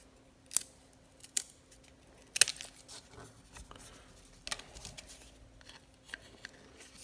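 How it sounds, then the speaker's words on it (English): Scissors snipping in a handful of crisp, separate cuts spaced irregularly apart, close by and fairly quiet, with faint rustling between them. "you can get away with some scissors on these"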